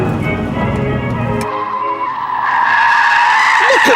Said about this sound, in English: Just listen to the tyre squeal.